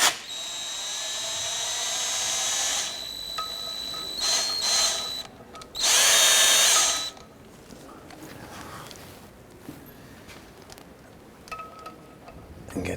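A power tool loosens a 10mm bolt on the oil pan of a 2008-2013 Honda Accord, with several whining bursts that peak in one loud, sustained run, then fade to quieter spins.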